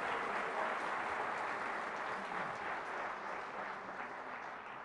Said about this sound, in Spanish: Fuertes aplausos, la palabra de nuestro Señor y Salvador Jesucristo.